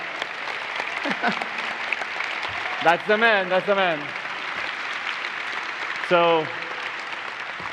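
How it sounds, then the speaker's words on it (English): An audience applauds at SIGGRAPH 2015's Real-Time Live show, a steady wash of clapping across a hall while someone talks briefly over it. "Give an applause to him."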